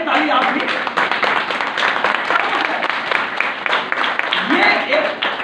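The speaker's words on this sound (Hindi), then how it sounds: "जोरदार बजा लीजिए ताली आप भी।" An audience at a motivational talk in Lucknow claps loudly and continuously, a dense patter of applause with a voice speaking over it.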